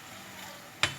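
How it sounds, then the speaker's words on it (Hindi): Chicken and vegetable samosas frying in oil give a soft, steady sizzle, and near the end a sharp, loud clatter cuts in close by. Nobody speaks. "लाइट ब्राउन होने तक हम इसको फ्राई करेंगे। अब हम इसको दोनों साइडों से फ्राई कर लेंगे"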